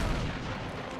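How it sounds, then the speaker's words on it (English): A missile fires in Uncharted 2: Among Thieves, a single heavy low boom that hits at once and then rumbles away over about a second. "Let me just shoot this missile real quick."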